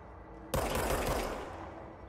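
A gun fires in the video game Control, a sudden loud burst of rapid automatic shots that sets in abruptly and then fades into a lingering rumble.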